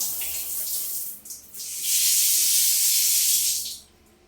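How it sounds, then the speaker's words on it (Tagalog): Water runs from a shower on newly installed bathroom pipes: a steady, bright hiss that starts softly, swells loud for a couple of seconds, then cuts off. "Pwede na maligo ng shower."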